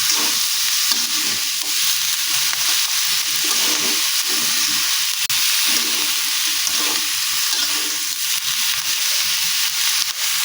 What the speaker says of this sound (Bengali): এখন এটাকে ভালো করে নাড়াচাড়া করে ভেজে নিচ্ছি